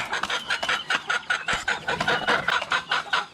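Gamefowl clucking in quick, rhythmic bursts while pecking at feed, close and fairly loud, several birds overlapping with soft scratchy pecking between calls.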